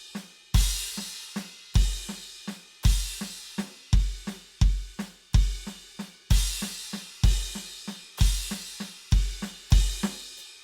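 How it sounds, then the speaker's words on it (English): Drum kit fill in which every crash cymbal hit is doubled by a bass drum kick, played slowly; loud, evenly spaced accents with washing cymbal decay, no talk. "all the times we're playing the crashes, we're putting a bass drum with it"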